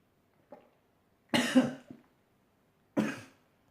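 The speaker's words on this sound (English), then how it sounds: "I got into a bit of a coughing fit there." A few harsh coughs burst out close by, a small one, then a rough double cough, and after a pause another sharp cough.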